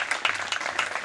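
Audience applause at a large 751-fire-altar yajna ceremony, a dense steady burst of many hands clapping together for about a second.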